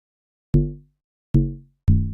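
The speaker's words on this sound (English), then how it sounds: "I have my sgidongo low drum, which sounds like this." Three deep, booming sgidongo low drum hits from an amapiano beat, each decaying quickly, with clear silence between them.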